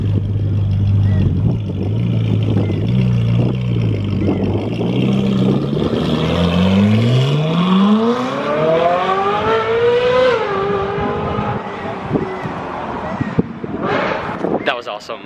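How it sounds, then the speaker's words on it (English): A Ferrari 458 Speciale sports car drives away, its engine note rising steadily as it accelerates through the gears, loud and continuous with wind and outdoor crowd noise around it. "The 458 Speciale is just leaving."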